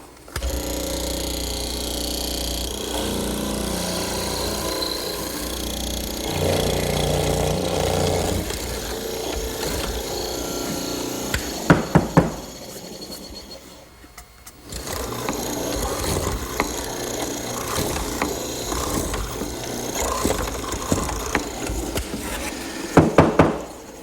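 Router plunge cuts into a wooden table leg for a horizontal mortise, a steady loud motor whine with bursts of cutting noise, a brief drop near the middle, then resuming with a few sharp knocks.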